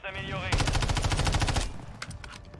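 Gunfire from the video game Warzone 3: a dense, loud burst of rapid automatic fire lasting over a second after a brief tonal sound, followed by a few scattered sharp shots.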